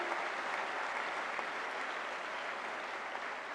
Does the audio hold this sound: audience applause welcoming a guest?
yes